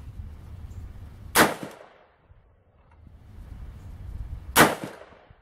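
Two loud, sharp rifle shots from a Daniel Defense M16 A1.5 at an outdoor range, spaced about three seconds apart, each a crisp crack with a brief decay and quiet in between.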